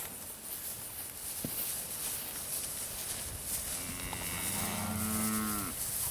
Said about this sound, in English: the cattle are out of Angus bulls, off commercial cross cows